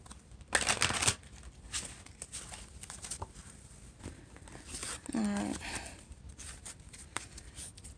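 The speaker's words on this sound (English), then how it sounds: "Let me get you one more shuffle." Tarot cards are shuffled close by in quick riffling bursts, with a soft flutter and a few light taps in an otherwise quiet room.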